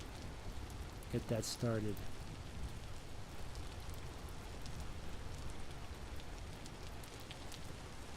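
Steady rain falling outdoors at a wood-stacking spot where firewood and charcoal are being made, a constant broadband hiss throughout, with a brief spoken remark near the start.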